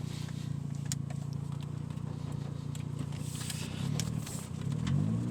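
1990 Mazda RX-7 FC with a rotary engine, a steady low rumble that swells at the end as the revs climb, with faint clicks over it.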